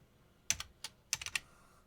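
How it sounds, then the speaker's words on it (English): Several quick keystrokes on a computer keyboard while typing a web address into a browser, close and fairly quiet, in two short bursts with no talking. "what you want to do is you want to type in"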